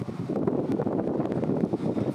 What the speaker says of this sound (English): Sorry, it's a little breezy, so hopefully you guys can still hear me.